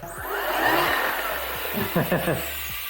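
A powerful electric motor driven by a thumb throttle whirs up in a rising, close hum, then eases off as short bursts of speech come in over it.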